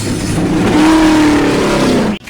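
A race car engine revs hard at close range, a loud continuous roar with a rising then falling pitch sweep through the middle, cutting off abruptly near the end.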